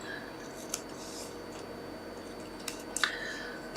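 Scissors snip through silver-embossed cardstock for a Christmas card, a few faint, brief cuts spread across a quiet background, the crispest snips near the end.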